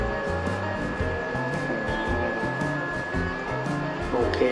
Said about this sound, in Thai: นี่ก็แอร์ครับนี่